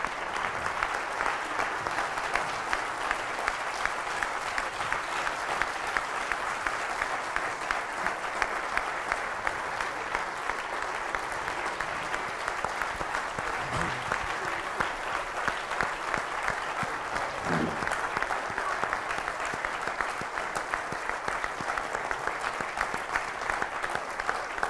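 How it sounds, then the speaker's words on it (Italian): Sustained, even applause from a lecture audience after a master's lecture on entrepreneurial courage, dense steady clapping filling the whole stretch at constant loudness with a couple of faint low thuds. "L'intensità dell'applauso"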